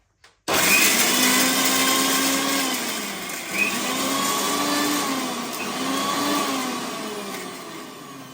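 A mixer grinder crushes garlic, ginger and green chilies, starting abruptly and whirring loudly and steadily with a high motor whine, its pitch wavering slightly as the contents shift.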